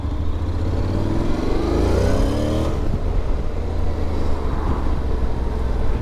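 A 2022 Honda X-ADV scooter in sport mode accelerates hard on a stretch of road. The engine note climbs steadily in pitch through the revs, loud and close, with constant wind and road noise.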